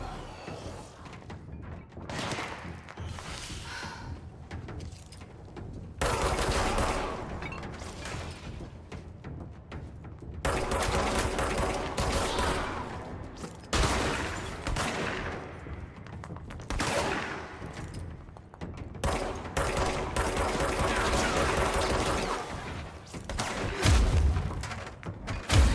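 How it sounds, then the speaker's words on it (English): Bursts of gunfire in the video game Control, including rapid volleys and heavy impacts. They come in several loud stretches separated by quieter gaps, with mechanical clanks in between. "There's another person shooting."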